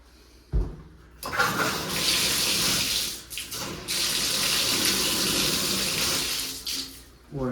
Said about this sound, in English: Water's working.